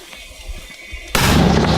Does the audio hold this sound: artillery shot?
yes